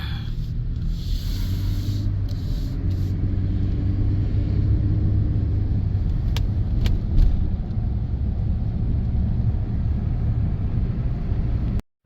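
Car driving along Fritz Cemetery Road, a continuous close rumble of engine and tyre noise that stays steady for the whole stretch before cutting off abruptly at the end.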